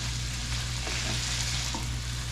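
Broccoli and minced garlic sizzle steadily in a hot pan while being stirred, a constant close frying hiss over a low hum, with light scraping of the spatula.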